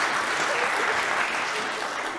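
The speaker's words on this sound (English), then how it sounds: "Do I get any applause for that?" A theatre audience gives a brief, dense burst of applause, loud and continuous, many hands clapping together without a break.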